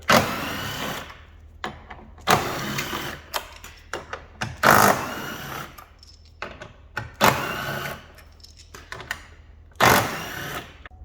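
Power tool undoing long front bumper bolts on an Alfa Romeo Giulia, several loud bursts of whirring and rattling, each lasting about a second, separated by short pauses and clicks, close up.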